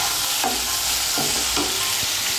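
Poppy seed curry is stirred in a hot pan, a steady sizzle with a few soft scraping strokes spaced about a second apart, close and continuous with no talking.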